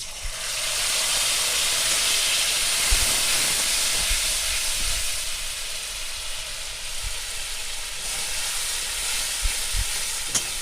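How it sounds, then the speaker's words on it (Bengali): Mustard paste hits a hot pan and sets off a loud, steady steaming hiss and sizzle that holds without a break for about ten seconds, with a few soft low knocks underneath. "এবার আমি সর্ষে বাটাটা দিয়ে দিলাম।"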